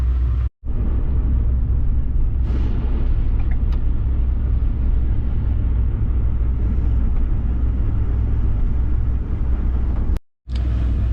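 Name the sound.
cargo van driving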